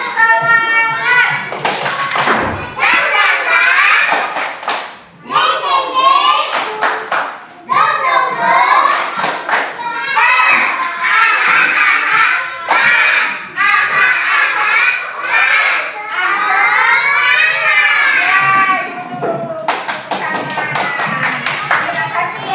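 A class of elementary school children claps the 'tepuk semangat' clap chant, with rhythmic hand claps and taps mixed under loud children's chanting voices, the claps coming in quick repeated bursts.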